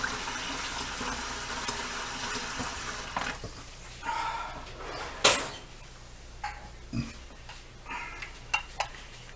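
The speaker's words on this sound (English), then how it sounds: "let me rinse my hands off" Hands rinsed under a running tap while making cone sushi, with a steady stream of water, a loud splash near the middle and several short knocks and clatters at the sink.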